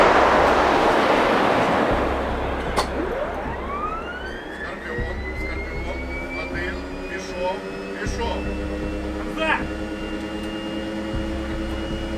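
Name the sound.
tank autoloader clanking and humming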